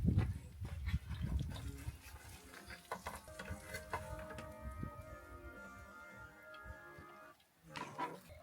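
Eggs frying in a pan at an off-grid desert campsite, a crackling sizzle running throughout with scattered ticks and clinks of utensils, fairly close and moderately loud, with no talking.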